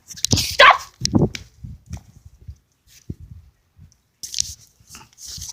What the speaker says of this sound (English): Sorry, it's my dog's fighting.